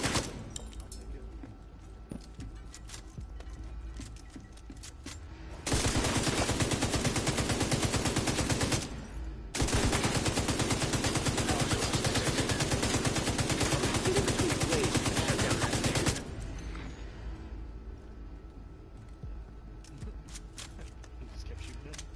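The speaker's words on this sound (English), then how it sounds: "I was shooting to see if I can bust the blade off of it" Gunfire in The Division 2 comes as two long, loud bursts of rapid automatic fire split by a short pause, with sparser shots before and after. Voices talk at the edges.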